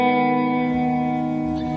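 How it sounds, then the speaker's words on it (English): Sustained guitar chords ring out, drenched in heavy reverb that lets each tone wash and linger with a spacious, echoing tail. "A lot of reverb and some vinyl cracking"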